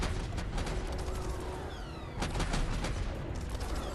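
Rapid gunfire from a battle in the online game Guild Wars 2, dense overlapping shots and bursts with sharp reports and whizzing streaks, loud throughout with no talking.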